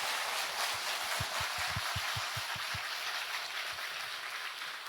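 A congregation at the 2022 World Remnant Conference, a church gathering, applauds. A broad, steady hiss of many clapping hands runs throughout, with a short run of low, regular thumps partway through that fades as the clapping tapers slightly.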